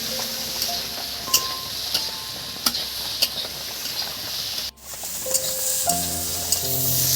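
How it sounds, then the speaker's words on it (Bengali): Potatoes, onions and cabbage stirred and frying in a pan for Maggi noodles, a steady close sizzle broken by repeated clinks of the spatula against the pan. "দেখুন বন্ধুরা কীভাবে আলু পেঁয়াজ আর বাঁধাকপি একদম নেড়ে চেড়ে নিচ্ছি"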